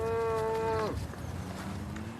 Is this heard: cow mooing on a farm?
yes